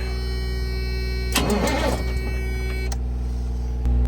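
A 1993 Freightliner truck with a 12.7 engine cranks in a brief burst, then settles into a steady hum as it runs, with a heavy low drone throughout and a thump near the end.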